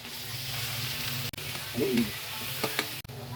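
Shrimp hit a pan of frying garlic, bringing a steady close sizzle with a few clinks and stirring scrapes.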